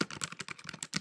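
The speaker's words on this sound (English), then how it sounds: "Let me finish typing this on Facebook." Quick, light keystrokes clatter on a computer keyboard while a message is typed on Facebook, faint and lasting only about a second.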